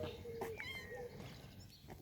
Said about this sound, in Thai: ไม่เคยเห็นแมวตัวนี้มาก่อนเลยนะเนี่ย